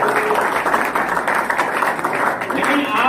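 Audience applause at a de-addiction class, a dense, steady wash of many hands clapping that carries through the whole stretch at fairly high level, with some voices mixed in.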